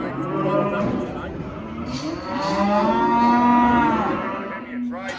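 Cattle low at a saleyard, several long deep moos rising and falling one after another, near and loud, with no voices over them.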